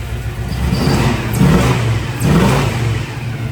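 A 1971 Chevrolet Chevelle SS convertible revs hard twice through a throaty exhaust, rising in pitch each time over a steady low rumble, close and loud.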